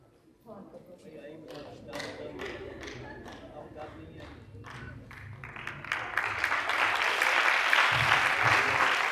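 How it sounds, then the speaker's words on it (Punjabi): Applause for consolation prize winners at a Basant Panchami celebration at Patel College, starting as scattered separate claps and swelling into dense, loud clapping that fills the last few seconds, with low crowd murmur underneath. "ਸੋ ਇੱਕ ਵਾਰੀ ਜ਼ੋਰਦਾਰ ਤਾਲੀਆਂ ਹੋ ਜਾਣ।"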